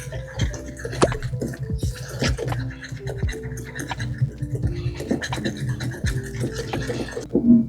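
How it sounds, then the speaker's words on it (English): A whisk scrapes and stirs a lumpy chocolate drizzle glaze in a bowl for double chocolate scones, with quick, close, irregular scratching strokes and soft wet clicks. "That's why we're using the whisk,"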